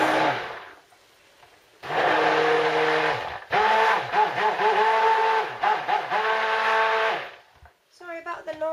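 A stick blender whirs loudly in bursts as it mixes cold process soap batter of sunflower, olive, coconut oils, shea and cocoa butter with clay, its motor pitch wavering under load between short pauses.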